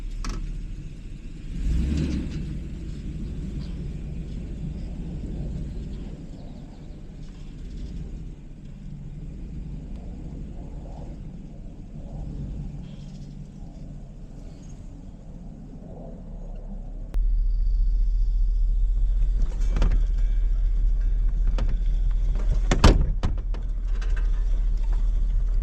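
A truck engine rumbles and whirs steadily as it drives across grass on a homestead, towing a homemade wood garden tool on a strap, with a louder surge partway through and scraping mechanical noise.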